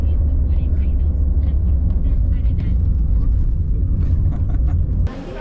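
A car rolls along in Costa Rica with a steady low engine and road rumble that holds for several seconds, then a brief louder clunk as it drops to a quieter idle near the end.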